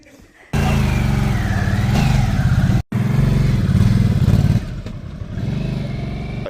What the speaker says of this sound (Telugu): This is 1250. It's a naked Sportster S.